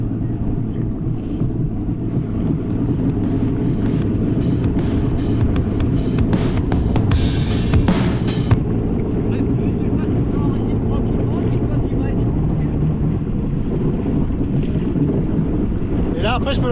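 Old Sea-Doo XLT 1200 jet ski engine drones steadily while riding on water, a loud continuous low rumble mixed with wind buffeting on the microphone throughout.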